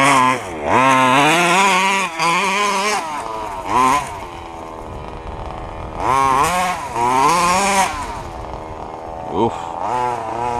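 Small 2wd RC truck's electric motor whining at partial throttle, rising and falling in repeated bursts, loud and close with quieter pauses between runs.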